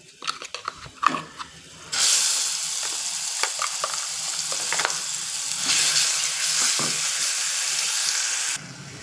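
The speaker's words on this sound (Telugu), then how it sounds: "ఉల్లికారం వేగుతుంది కదా" Onion chili paste dropped into a hot pan bursts into loud, continuous sizzling frying that lasts several seconds, after a few clattering knocks of a utensil against the pan.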